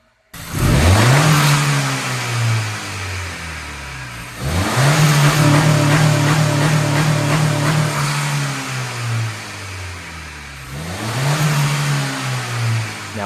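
A Honda Civic Si fitted with a PRL high volume air intake revs three times, each rise swelling into a loud, throaty climb before easing back toward idle; close, strong and continuous, with no voices.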